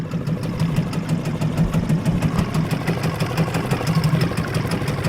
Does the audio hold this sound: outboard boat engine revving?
yes